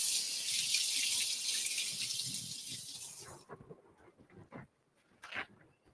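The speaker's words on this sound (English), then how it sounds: "I've got to wash my hands real fast" Tap water runs loudly as hands are washed, then cuts off, leaving a few faint clinks and drips.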